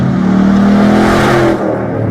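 A Chevrolet Camaro Z28's 505-horsepower V8 revs hard toward 7,000 RPM, a loud sustained rising engine roar that dips briefly near the end, with no talk over it.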